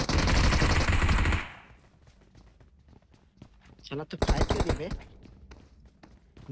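Gunfire in the PUBG Mobile battle royale game: a loud dense burst of rapid shots at the start, then quieter footsteps and scattered sounds, and another sharp volley of shots mid-clip.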